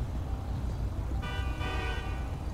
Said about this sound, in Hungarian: Nézd meg, te dudál is.